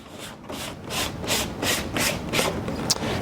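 A paper sheet slides and rubs against the rollers as it is fed into a Graphtec cutter, giving a series of quick rhythmic scraping strokes heard up close with no voices.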